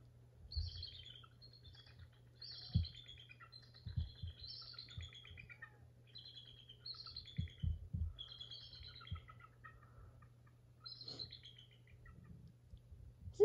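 Repeated high, piping chittering calls of a bald eagle come in quick bursts across the recording, fairly clear over a low steady hum and a few soft thumps.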